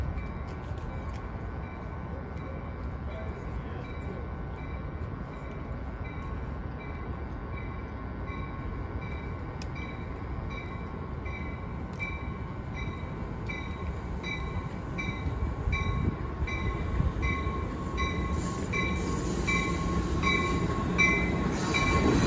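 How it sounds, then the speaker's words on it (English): A Capitol Corridor passenger train rumbles steadily with a faint metallic whine from the wheels, growing louder near the end as it arrives at Emeryville station; a faint voice is briefly audible. "Capitol Corridor, train number 736, now arriving."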